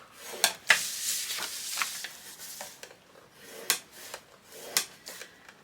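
Paper being scored with a scoring tool for a Christmas-themed photo folio: a series of short, dry scraping and rubbing strokes, some louder than others, spaced irregularly in a quiet room.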